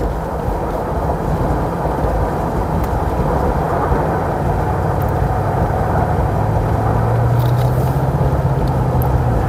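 A 1994 Buick Roadmaster Limited sedan accelerates from a standstill. Its engine gives a steady, loud, low roar with a rising tone in the last seconds and no voices.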